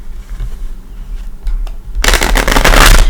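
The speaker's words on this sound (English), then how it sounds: "let's bring in the Gilded Tarot. Let's give it a couple shuffles." A Gilded Tarot card deck being shuffled, quiet handling at first and then a loud, fast riffle of crisp card flutter filling the last second, close to the microphone.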